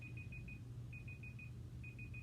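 An exercise timer beeps during a hip flexor stretching session, sounding three groups of short high electronic beeps, four, four and three in quick succession, over a steady low background hum, with no talk.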